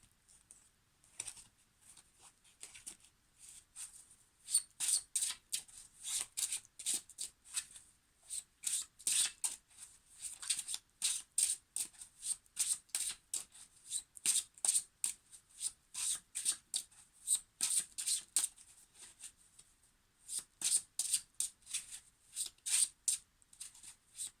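Tarot cards are shuffled over and over, a long run of quick riffling bursts in a steady rhythm with short pauses, close and fairly soft, with no talking.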